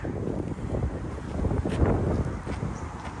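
Strong wind gusting steadily outdoors around a parked 2010 Toyota Vios 1.5E, a continuous low rumbling buffet across the microphone with swells and no voices.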